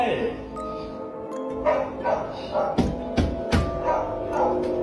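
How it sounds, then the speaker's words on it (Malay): A dog barks repeatedly in short yips and bow-wows over a steady background, sounding at moderate distance, with a person speaking in between. "Anjing dia bising doh."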